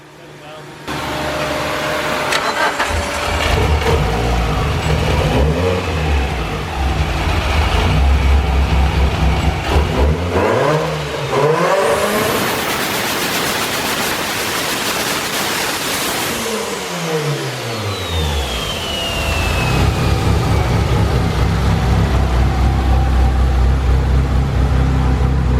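A Mitsubishi Evo fitted with a cheap eBay turbo revs hard and loud, the engine note climbing and falling through repeated sweeps with a rising turbo whine, close up and continuous.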